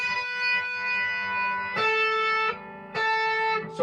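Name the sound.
electric guitar pull-off, flicking the string with a finger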